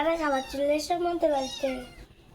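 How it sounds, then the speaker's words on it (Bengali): A cat close by gives a run of five or six drawn-out, wavering meows in quick succession, loud and clear, then falls quiet. "একটা বিড়াল ঈশার সাথে শুধু দুষ্টু করছে"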